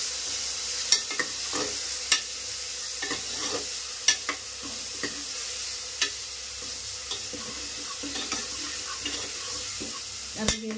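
Two onions frying in oil for mutton paya, a continuous close sizzle punctuated by sharp spoon taps and scraping against the pan every second or so, no talking.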